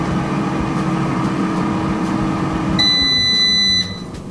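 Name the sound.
GoWise USA air fryer timer done beeping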